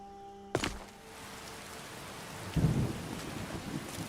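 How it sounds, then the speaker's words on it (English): Rain and thunder in the video game Skyrim, a sharp thunder crack followed by a steady rain hiss, then a deeper low rumble rolling in under the downpour. "Ah, the rain, it pours."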